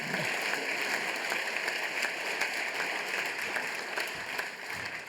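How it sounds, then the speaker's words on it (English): An audience at a business conference gives steady, faint applause, an even patter of clapping heard from a distance with no other sounds. "after you give me maybe a hand of applause"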